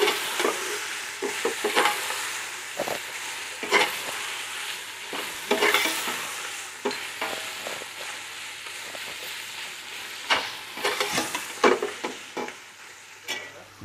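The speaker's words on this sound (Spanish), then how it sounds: "Vamos a seguir sofriendo. Vamos a sellar bien." Food is sautéed and seared in a pan in a restaurant kitchen, a continuous close sizzle broken by frequent bursts of stirring and tossing, loud and busy, no voices.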